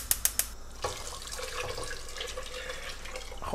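Tap water runs steadily into a cooking pot while making cabbage soup, a continuous splashing stream after a few sharp clinks at the start, close and alone without speech.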